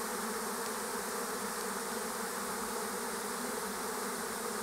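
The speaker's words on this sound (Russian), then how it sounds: "Много пчел." A swarm of honeybees settling onto a branch gives off a steady, dense buzzing that holds unbroken and evenly loud throughout, with no voices.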